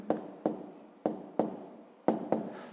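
Numbers written by hand on paper, six short scratchy pen strokes in an uneven rhythm, close and quiet with no talking.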